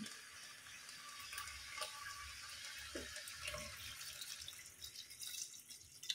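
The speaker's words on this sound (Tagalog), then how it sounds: "So, lagyan na natin siya ng tubig." Water is poured into a cooking pot of clams for soup with a soft, trickling splash, quiet and close, with faint clinks and no voices.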